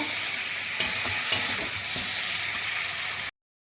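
Fish head, spices and potato are sautéed in a pan, giving a steady close sizzle with a few sharp scrapes of a stirring utensil, before the sound cuts off abruptly.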